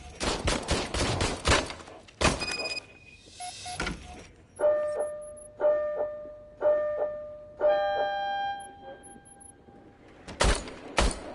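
An old service gun fired in a video game, opening with rapid loud bursts of shots, then a series of spaced mechanical clunks and ringing tones, before a final pair of sharp shots.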